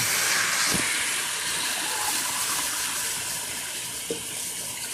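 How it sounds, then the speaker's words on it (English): Rice fries in a pot of jambalaya, producing a constant hissing sizzle with a couple of soft knocks, close and loud with no voices over it. "Rice is starting to fry off a little bit"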